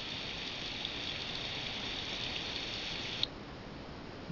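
Steady rain ambience from a koi pond relaxation app, a continuous soft patter and hiss that holds even, then drops slightly in level near the end, with no voices.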